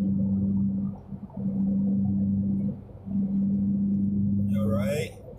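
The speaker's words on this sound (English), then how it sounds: "the engine doesn't really sound like it's struggling too much longer" A Scion tC engine runs while the car is driven with a manual stick shift, giving a low, steady hum that drops out briefly between stretches, with a faint voice near the end.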